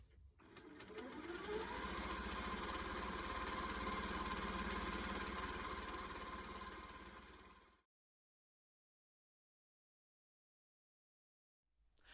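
A sewing machine quilting an elongated stipple pattern, mostly straight runs with small turns, on a flower quilt block: a steady, loud, continuous motor whir for about eight seconds, then it stops, leaving silence.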